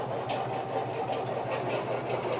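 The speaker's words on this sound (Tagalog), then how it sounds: "Ganyan mga bossing ang sistema niyang dressing machine na yan." Motor-driven poultry dressing machine running steadily on a trial run, its drum spinning on top via a rod from the motor, giving a continuous mid-pitched mechanical whir and rattle with no talking.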